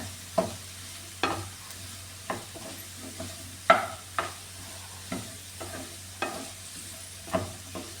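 Chopped beetroot sizzles softly in a pan. A spoon stirs it about ten times in sharp, evenly spaced scrapes over a low frying hiss, close and quiet with no voices.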